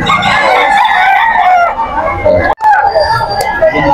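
A stag rooster crows at a busy live-animal market, its call loud and close, with people talking over and around it.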